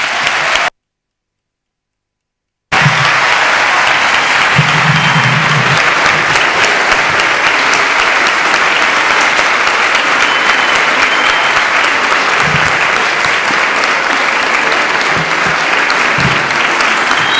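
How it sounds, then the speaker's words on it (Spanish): Sustained audience applause welcoming a guest speaker to a lecture on reactionism and fascism, a dense, steady wash of many hands clapping at even loudness throughout, with a brief silent gap near the start. "quiero que aplaudáis porque realmente es un inmenso orgullo que esté con nosotros"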